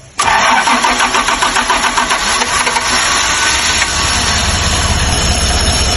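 An old Toyota Land Cruiser 70 series with a 4.0-litre 3F gasoline engine cranks and fires up close and loud, then settles into a steady rough running rumble for several seconds, with no talking.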